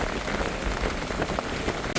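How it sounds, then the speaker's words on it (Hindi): Heavy monsoon downpour on a road, a dense, steady hiss of rain striking surfaces close by, continuous and loud throughout with no voices. "और बारिश बहुत ज़्यादा बढ़ गई है"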